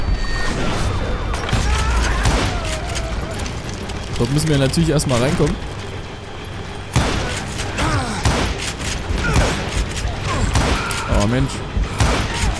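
Rapid gunfire, a western-style fusillade with booming bursts, rings out in the shooter video game Call of Juarez Gunslinger during a cave hideout fight. The shots come in loud repeated volleys under someone talking excitedly in German.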